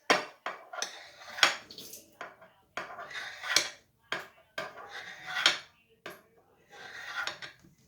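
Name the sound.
knife slicing pandan jelly into cubes in a pan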